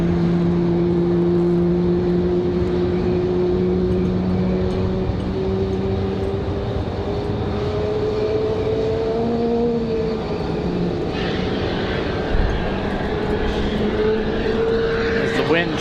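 An airplane departs Raleigh-Durham International Airport, its engine drone steady and fairly loud throughout with slowly shifting tones, under gusting wind, and someone talks over it.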